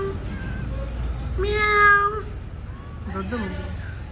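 A cat meows twice, one longer drawn-out cry followed by a shorter, rougher one, close by over a low rumbling background.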